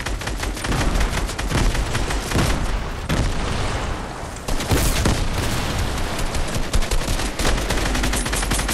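Sniper gunfire in a Fortnite trios match: loud, dense, continuous volleys of overlapping shots and booms that carry without pause, close and harsh, with no speech.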